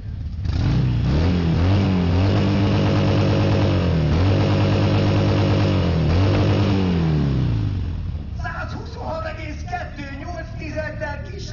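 A motorcycle engine, either a Honda or a Harley, revs loudly in a series of rising and falling pulls at a sound-volume contest during a motorcycle meet at Szelidi-tó, then drops back to a rough idle.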